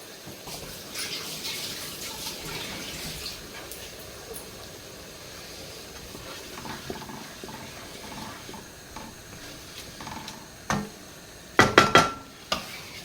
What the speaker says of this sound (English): whilst I rinse my hands